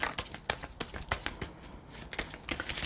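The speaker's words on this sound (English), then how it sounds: "Why am I shuffling for more cards?" Tarot cards shuffled by hand at close range, a brisk run of papery riffles and soft slaps in an uneven rhythm, heard alone without talk.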